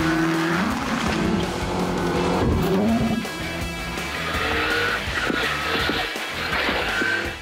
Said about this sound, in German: Beschleunigt sein Rennauto auf über 100 km/h